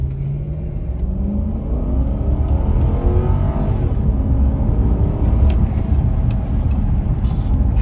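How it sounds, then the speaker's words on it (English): A luxury sedan's engine pulls hard through an acceleration test on the road, a loud, steady rising drone with rumbling low end and no talk over it. "Now let's do a little acceleration test."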